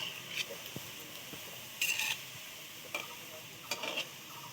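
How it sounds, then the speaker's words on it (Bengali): Semolina gulab jamun frying in hot oil over high heat, a soft low bubbling under scattered sharp clinks and scrapes of a utensil against the pan, fairly quiet and close. "দেখো তো তেলটা কত জোরে ফুটছে"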